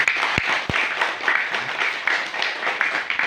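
A crowd at a community gathering gives a short burst of applause. Scattered hand claps ring out at a middling distance over a few seconds.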